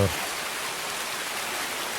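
Rain patters steadily in a first-person shooter game, a dense continuous hiss that sets in right after a short thud at the start and stays even throughout.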